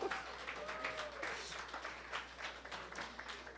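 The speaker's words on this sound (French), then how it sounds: "Et applaudissez-vous." An audience applauds steadily with dense, sustained clapping at moderate volume throughout, crowd noise blending underneath.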